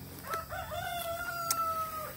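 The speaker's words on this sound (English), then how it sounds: "And the birds." A rooster crows in a backyard garden with chickens, one long drawn-out call rising and holding steady, with faint clucks and soft outdoor background around it.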